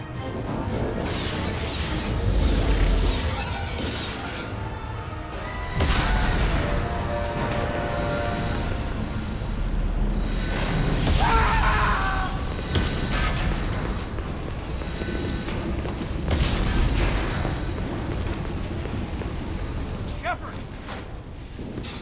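Starship under attack in the Mass Effect 2 video game, with loud rumbling explosions, crashes and hull-breach blasts recurring in bursts over dense battle noise, with voices calling out alarms over the din.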